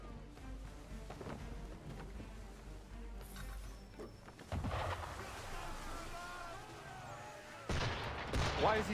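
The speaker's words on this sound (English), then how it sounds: "Why is he shooting at us?" Gunfire from a ship in Assassin's Creed III, a couple of distant booming shots, one around the middle and another near the end, rising over quiet ambient sound and water, with people talking in between.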